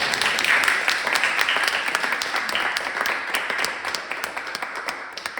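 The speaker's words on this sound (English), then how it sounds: "Can we have one more round of applause?" An audience applauds at the end of a Lincoln Highway talk on Black mobility and the automobile, giving dense, steady clapping from many hands that thins slightly toward the end.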